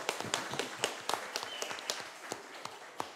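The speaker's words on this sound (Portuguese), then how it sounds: "Vamos dar uma salva de palmas para o Paulinho" A small round of applause during a municipal council session, quiet and sparse, with distinct individual claps at an uneven rhythm rather than a dense ovation.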